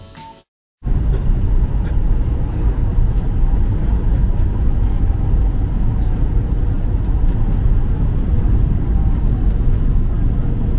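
Inside a small United airliner flying from Newark and landing at Ponta Delgada in the Azores, a loud, steady engine and airflow roar fills the cabin after a brief quiet start.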